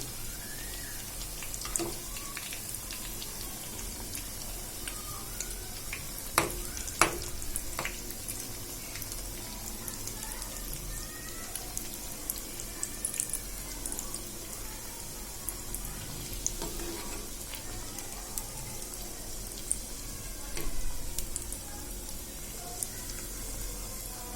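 Crispy cutlets frying in hot oil in a pan, a continuous close sizzle with scattered pops and crackles running steadily throughout.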